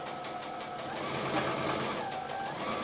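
A sewing machine runs steadily while stitching a seam on a quilt block. The needle whirs in a fast, even rhythm, close and continuous, with no talking.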